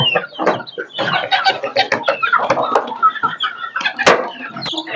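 A mother hen and her single chick clucking up close on a small country-chicken farm, busy rapid clucks and peeps in quick irregular bursts, loud and alone without talk.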